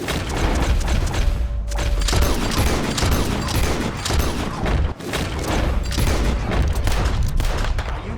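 Heavy, continuous gunfire and booming shots in Red Dead Redemption 2, loud and close, with dense overlapping volleys and mechanical clatter almost without pause.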